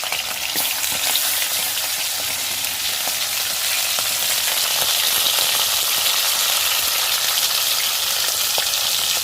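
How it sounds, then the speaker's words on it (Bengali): Fish frying in a hot pan, a steady, loud, continuous sizzle and crackle of oil that holds throughout with no voices. "মাছটা ভেজে নিচ্ছি"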